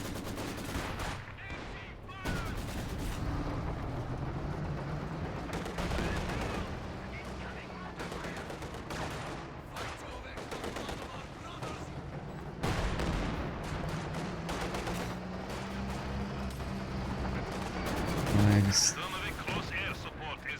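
Artillery barrage in a real-time strategy game match, with rapid bursts of shell and gunfire impacts crackling repeatedly over a low droning battle bed while a commentator talks throughout.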